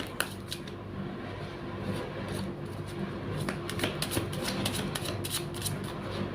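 Tarot cards are shuffled by hand, a steady run of crisp riffling clicks and soft flutters close by, with no talk.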